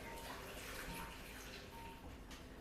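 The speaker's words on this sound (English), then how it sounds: "As you can see, we have running water." Water runs steadily from a tap into a sink in a clinical simulation room, a continuous hiss close by at low level, with faint voices in the background.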